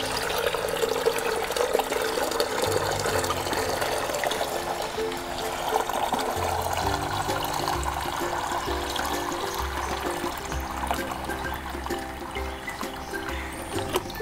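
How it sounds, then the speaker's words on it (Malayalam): Fish tank water poured into a container for a waste decomposer mix, a continuous splashing gush and trickle lasting throughout, close and steady with no talking. "അതിലേക്ക് ഞാൻ ചേർക്കുന്ന ഫിഷ് ടാങ്കിലെ വെള്ളമാണ്"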